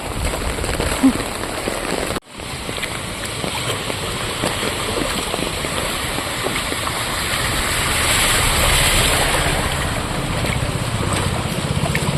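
Heavy rain pours down in a dark outdoor setting, a dense continuous hiss with wind, steady throughout apart from one brief dropout near the start, with no clear speech.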